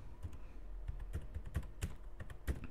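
Quick bursts of computer keyboard keystrokes as a command is typed into AutoCAD, uneven clicks close to the microphone, with no talk.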